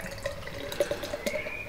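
Brewdog Berlin Pilot #17 coconut porter beer poured into a glass, heard as a short, faint trickle and splash with a few small drips, close by and with no talking.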